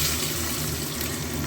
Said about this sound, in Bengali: এবার দিয়ে দেবো পেঁয়াজ।